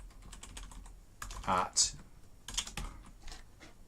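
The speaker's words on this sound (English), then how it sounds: "I forget I'm on a PC keyboard at the moment" Irregular clicking keystrokes on a PC keyboard, close and fairly loud, in quick uneven bursts, with a word of speech briefly over them.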